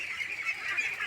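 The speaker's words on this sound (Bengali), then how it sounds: "পুকুরের মধ্যে, পানির মধ্যে হাঁসগুলো নামতেছে, খেলা করতেছে" Ducks at a village pond give a close, continuous run of nasal honking calls, loud and alone with no voices.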